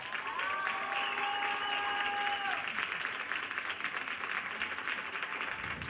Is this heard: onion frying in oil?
no